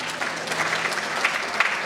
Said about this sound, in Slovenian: Manca Črešnar, Tilo Vendorok, zaslužijo si aplavz,